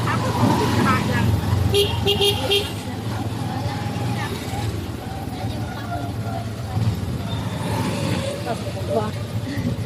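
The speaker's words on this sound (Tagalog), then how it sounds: "Traffic sa EDSA." Heavy road traffic on EDSA rumbles steadily with cars and buses, with a burst of car horn toots early on, while people talk over the din.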